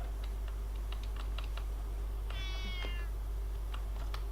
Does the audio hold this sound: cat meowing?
yes